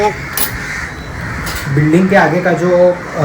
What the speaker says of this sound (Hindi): अभी आप देख रहे हो यहाँ पे कौवे बहुत ही आवाज़ कर रहे हैं